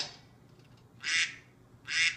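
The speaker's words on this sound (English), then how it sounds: "you hear the duck" A cartoon duck quacking in the Ballyland video game for blind children: two loud, close, nasal quacks about a second apart over a quiet background.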